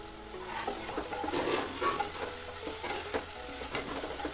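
Banana pieces frying in ghee in a pan for a biscuit-and-banana pudding, a steady soft sizzle with occasional stirring scrapes, close and fairly quiet with no voices.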